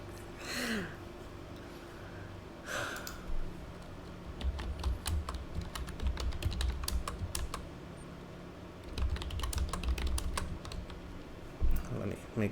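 Fast, uneven typing on a computer keyboard fills the clip, with bursts of clattering keystrokes, short pauses and a few breaths or sighs mixed in.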